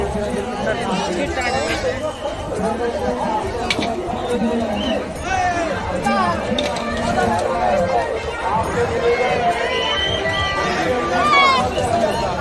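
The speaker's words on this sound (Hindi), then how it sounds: "ज़्यादा भीड़" Dense crowd chatter and babble at a busy Shiva temple, many voices overlapping steadily throughout with scattered footsteps and shuffling, close and fairly loud.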